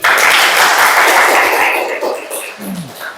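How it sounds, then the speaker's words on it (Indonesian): Applause from students at a school religious-education session, a dense burst of clapping that starts loud and gradually thins and fades over about three seconds. "Tepuk tangan dulu"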